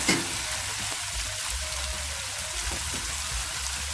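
Indian lettuce stir-frying in a wok, a steady soft sizzle and crackle that holds evenly throughout with no talk.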